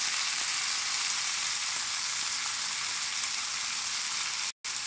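Chicken for pollo asado sizzles steadily in a pan, a continuous bright crackling hiss of frying with a brief cutoff near the end.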